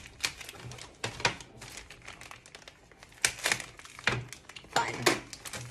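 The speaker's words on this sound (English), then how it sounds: "So let's open that up first. With a couple of scissors." Scissors snipping and plastic packaging crinkling as a drawing tablet stand is cut open, with bursts of close rustling and cutting in irregular clusters and brief pauses, no talk.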